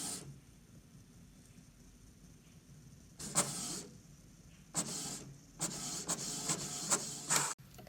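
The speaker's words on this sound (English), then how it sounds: "Select the printer that you're going to be using, and then click print." A printer runs a print job onto sticker paper for Cricut print-then-cut stickers, giving several separate mechanical bursts of feed and carriage motion over a quiet room hiss, loud and close, with pauses between passes.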